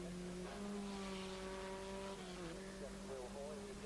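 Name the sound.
Sports 2000 racing cars at Donington Park hairpin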